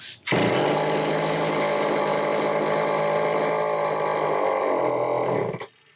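A Homelite XL-903 chainsaw engine runs loudly on full choke, holding a steady, rough, buzzing drone for several seconds before cutting off abruptly near the end.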